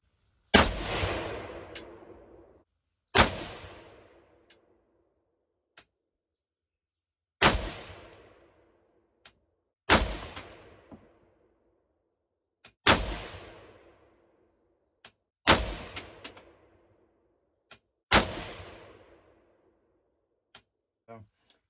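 Seven sharp, loud rifle shots from a SIG 716i firing standard 147-grain mil-spec ball 7.62x51 (.308) ammunition, each crack decaying into a brief echo, spaced a few seconds apart with faint clicks between them.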